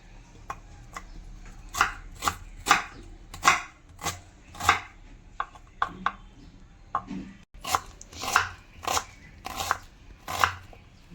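A knife chops an onion on a cutting board in a home kitchen, with sharp, distinct strokes landing in irregular bursts, some quick runs and some spaced apart, close and clear with no talking.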